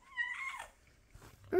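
A short, clear cat meow up close, followed by a quiet pause, soft rustling, and the start of another meow.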